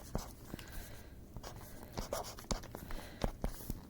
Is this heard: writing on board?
yes